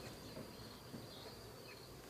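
Honeybees drone around an opened hive during a spring honey harvest, a faint, continuous buzzing hum with no voices over it.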